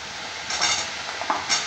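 Potato and ridge gourd pieces tipped into a hot frying pan, soft scraping and stirring rustles with light sizzling and a few clinks of a spatula against the pan, close and moderately quiet.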